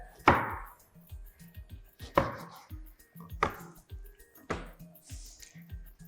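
A knife chops fresh ginger into fine julienne strips on a board: four or five crisp, separate strikes spaced a second or more apart, close and clear, with no talking.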